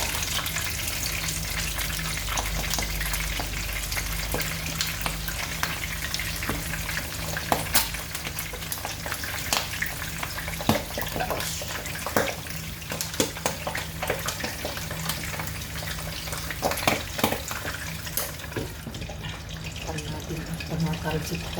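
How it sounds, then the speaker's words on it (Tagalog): Dinakdakan ingredients fry in a pan with a continuous crackling sizzle and scattered sharp pops, fairly quiet and close, while a person talks at intervals. "Ayan, prito pa po natin."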